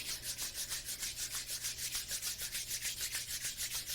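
Palms rub briskly together in a steady back-and-forth rhythm, a soft, close swishing friction repeated many times without pause.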